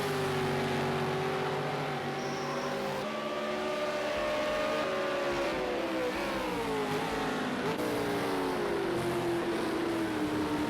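V8 Supercars race cars at Ruapuna Park, including a green Ford Falcon, blast down the front straight with loud, sustained engine howls whose pitch climbs through the gears as they accelerate, several engines overlapping and close by, with no talk.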